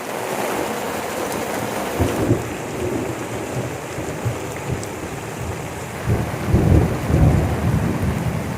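Heavy rain pours steadily through a thunderstorm, with low rolling thunder rumbling in the middle and swelling louder near the end, no voices present.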